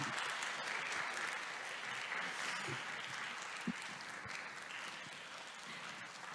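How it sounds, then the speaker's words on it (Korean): An audience at a POSCO recruitment briefing applauds to welcome a presenter, producing a steady, fairly faint and distant wash of clapping that lasts the whole stretch with no talk. "박수로 맞아주시기 바랍니다."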